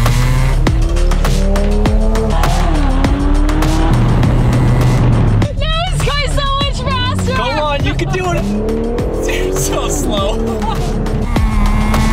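Modded BMW M4 accelerating hard with squealing tires, a loud sustained engine roar rising through gear changes, with sharp tire squeal bursts midway, while people talk over it.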